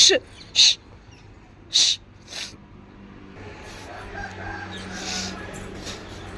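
Chickens give a few short, sharp clucking calls near the start, followed by quieter background noise of an outdoor yard.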